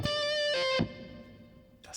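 An electric guitar played through a Kemper fuzz (Octa fuzz) with reverb sounds a sustained distorted note, then a brief chord stab that decays into a reverb tail, followed by a short burst at the end.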